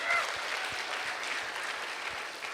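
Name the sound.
audience applause for Rafael Carrilho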